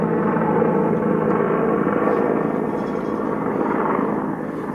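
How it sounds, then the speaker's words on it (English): A Huey medevac helicopter passes overhead, its broad, loud rotor and engine roar steady across the whole stretch and easing slightly toward the end, with no talking. "It's a Huey Medevac."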